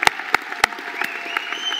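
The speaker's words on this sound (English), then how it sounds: "let's give a round of applause, everyone" A graduation audience claps, starting with a few sharp, separate hand claps that quickly thicken into steady, moderately loud applause.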